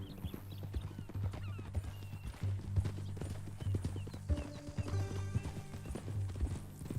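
Horse hooves clip-clopping in the video game Red Dead Redemption 2, a steady walking rhythm over a low droning background with a brief whinny, moderately loud and close.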